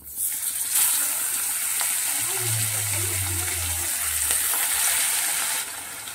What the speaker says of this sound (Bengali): আরও 2 পিস মাছ ভাজা বাকি আছে, সেই দুটোকেও ভালো করে আমি ভেজে নেব।